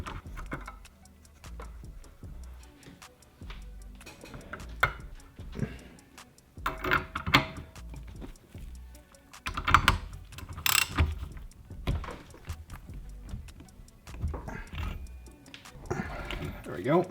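An upgraded HPFP piston assembly being tightened down gives repeated close ratcheting clicks and metallic ticks in uneven bursts, with someone talking over them.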